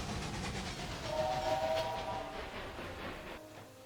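A train pulls into Birmingham station in the railway-building game Railway Empire 2, with a low steady rumble and a short tonal whistle partway through. The train noise is moderately quiet and fades near the end, with no voices.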